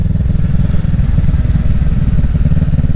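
Steady, loud engine drone and rumble of a Kawasaki Ninja 650 motorcycle being ridden slowly, heard close with wind buffeting and no talk.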